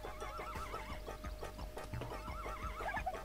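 In the video game Miitopia, a horse gives a quavering, repeated whinny that plays over a steady musical game backdrop. The sound is moderately faint and comes with no talking.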